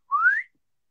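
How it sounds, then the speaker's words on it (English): A single short rising whistle from a person just before dipping bread into soup, close and clear, lasting under half a second, with silence after. "when I dip, we have a little whistle"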